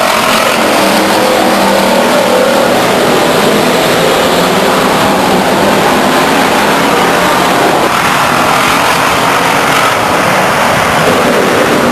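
Race cars roar past at Stockton 99 Speedway, a loud, dense and continuous wash of engine noise that swells and fades as the field goes by.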